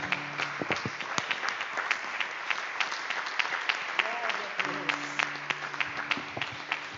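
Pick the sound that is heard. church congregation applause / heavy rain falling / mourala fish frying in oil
church congregation applause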